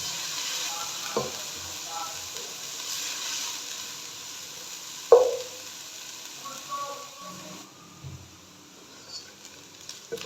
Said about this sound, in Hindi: अभी प्याज को हम अच्छे से फ्राई करेंगे।